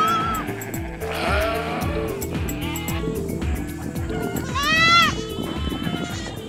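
Sheep and goats on a farm in Botswana, bleating repeatedly in overlapping, wavering calls, some close and loud, over a steady rhythmic background.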